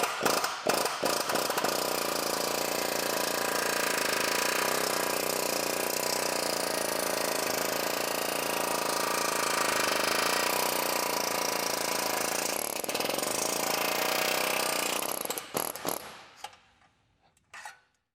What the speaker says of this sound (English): Let's go ahead and do a destruction test on it to determine how good the spot welds are.